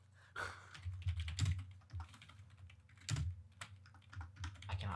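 Rapid clicking and clacking of typing on a computer keyboard, close and fairly loud, in uneven bursts with short pauses between them and no talking.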